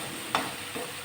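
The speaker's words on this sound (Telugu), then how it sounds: "ఇలా వేసి బాగా వేయించుకోవాలండి." Frying in a pan for a green mango and ghee fish curry, a brief soft sizzle with one sharp stirring clink, close and quiet.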